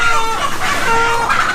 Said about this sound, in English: So this is the little area that they slaughter, I guess, the chickens.